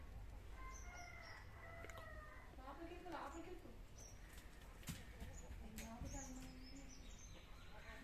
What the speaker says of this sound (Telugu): మళ్ళా కోడి వస్తూ ఉంది.